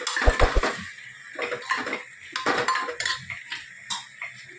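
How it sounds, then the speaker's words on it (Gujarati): A close spoon scrapes and clanks in a metal pot as food is mixed with red chilli, turmeric and salt, making irregular scraping strokes and knocks. "સરસ બધું મિક્સ કરી લઈએ"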